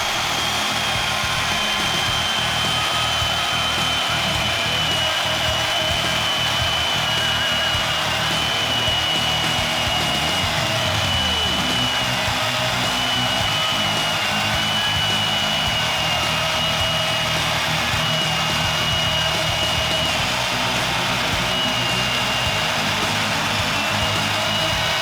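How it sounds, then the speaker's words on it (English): Bauer portable band saw from Harbor Freight cutting through metal, a steady loud whirring drone with a grinding blade rasp running throughout. "porta band we're using is this Bauer flavor from Harbor Freight"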